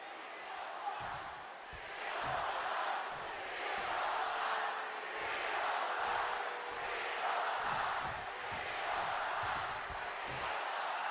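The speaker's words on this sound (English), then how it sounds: "They're actually cheering for D'Lo Brown." A video game arena crowd in WWE 2K25 roars and cheers in swelling waves, a steady distant wall of noise with rhythmic rises throughout.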